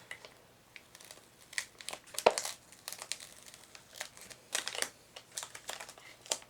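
Plastic film peeled slowly off a unicorn-and-rainbows acrylic pour and swipe painting gives faint, irregular crinkling and soft tearing crackles, with one sharper snap partway through and no talking.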